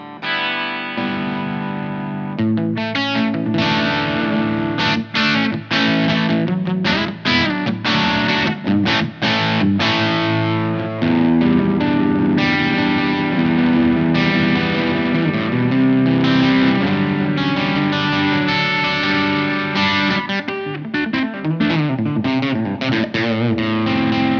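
An electric guitar through a Blackstar Dept 10 Dual Distortion pedal on its clean channel, with a mild, edge-of-breakup tone, plays chords and riffs continuously, with a touch of reverb and no voices.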